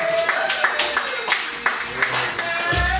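A small comedy crowd at a stand-up show in the Hollywood Hotel claps for a comedian, with scattered individual claps and cheers close by, mixed with a voice over a microphone.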